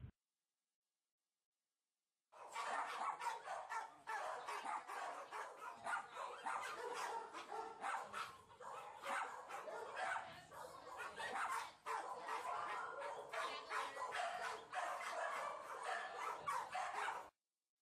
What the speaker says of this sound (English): And here's yet another and smaller frustrated dog.